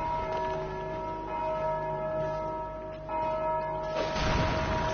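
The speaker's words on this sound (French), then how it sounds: "il a tapé dans la cloche" A large bell rings in Dark Souls 2 Scholar of the First Sin, a sustained resonant tone with a fresh strike near the end, heard over game ambience with no speech.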